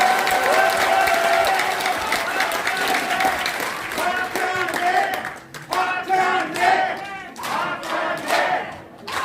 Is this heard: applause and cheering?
yes